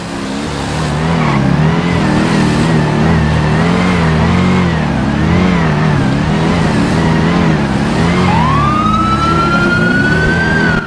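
A GTA V roleplay emergency vehicle siren wails steadily in a loud, continuous up-and-down pattern over an engine drone, and a second siren sweeps upward near the end, with no speech.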